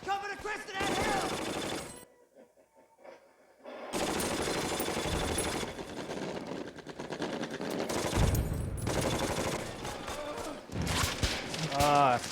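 Bursts of machine gun fire crackle through a World War II battle scene in Band of Brothers, episode Carentan, rapid volleys alternating with short pauses while soldiers shout orders over the gunfire.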